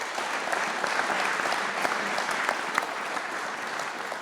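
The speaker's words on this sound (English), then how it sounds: "give everyone on the panel a round of applause" An audience at a space-sector showcase claps for a panel in steady, dense applause that holds at an even level for several seconds without fading out.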